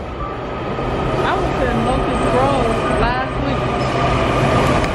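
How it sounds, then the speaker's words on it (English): A subway train pulls into a station, a steady loud rumble with squealing wheels and brakes, while a person talks close by over the noise. "There's the train."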